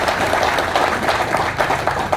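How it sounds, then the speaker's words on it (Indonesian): An audience claps in dense, sustained applause with no pauses, loud and close throughout. "Tepuk tangan yang meriah."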